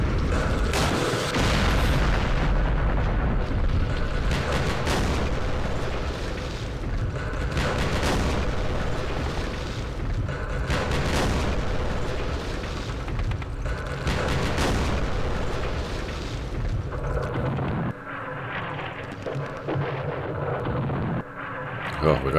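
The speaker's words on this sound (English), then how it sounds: "Freaking rockets." Rocket explosions during a D-Day Omaha Beach battle in the war game Campaign Series West Front, a dense run of heavy booms and blasts rolling one after another with someone talking over them.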